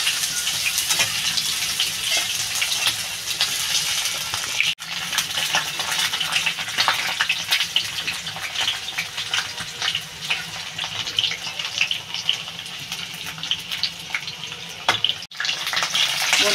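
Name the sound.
kohlrabi frying in hot oil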